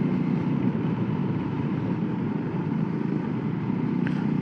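A Voge 300 Rally motorcycle engine hums steadily as the rider eases off the throttle and shifts down a gear, a moderate even drone with wind rush, no clear rev change, no speech.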